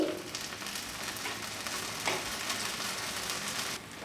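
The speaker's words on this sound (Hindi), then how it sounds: "फिर मैं हल्का हल्का साइड में घी डाल दूंगी।" A beetroot rava dosa sizzles on a hot pan as ghee goes in around the edges, a continuous close crackling hiss with a faint scrape partway through and no talking.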